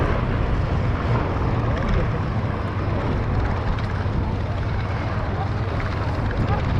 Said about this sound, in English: Now, here comes the Bristol Mercury.